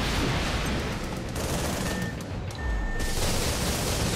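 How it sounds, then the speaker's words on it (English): Machine gun fire rattles in the Project Nimbus video game as a dense, continuous wash of rapid shots with no clear gaps, fairly loud and steady throughout. "Pull out a machine gun."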